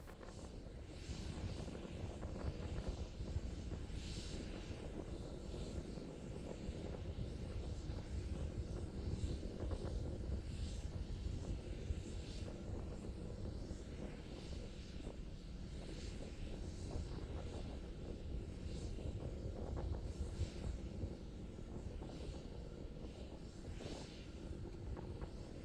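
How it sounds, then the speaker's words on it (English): Starship SN11 climbs on two Raptor engines during a high-altitude flight test, a continuous low, distant rumbling roar that holds steady for the whole stretch with faint fluctuations and no talk. "continuing to climb on power of 2 engines"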